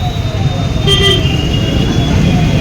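Car horns in a jammed street, one loud near toot standing out over a constant rumble of idling road traffic, with scattered further honks around it.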